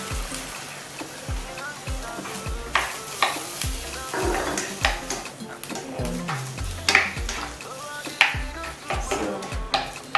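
Blended chili sizzling as it fries in a pan, stirred with a utensil that scrapes and knocks against the metal in an irregular rhythm, up close over a steady frying hiss.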